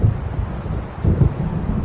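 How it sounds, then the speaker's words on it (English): A thunderstorm in the Alan Wake video game rolls in as a deep, steady low rumble, with two swells of louder thunder near the start and middle. It is heard alone, with no talking. "It seems there's a storm coming."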